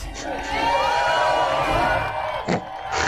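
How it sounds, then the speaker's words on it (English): A studio audience at a Games Master Christmas special applauds and cheers loudly, a dense crowd roar with whoops, under voices, dipping briefly near the end. "So let's have another round of applause."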